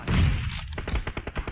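Gunfire in the PUBG battle royale video game: a dense burst of shots up front, followed by a rapid run of sharp cracks fading into lighter, evenly spaced pops.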